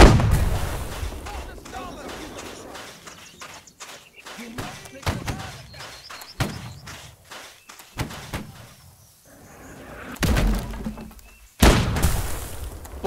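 Musket volleys in the Holdfast battle game, several sharp cracks and booms spread across the scene, some near and loud and others farther off, under shouted commands and talk.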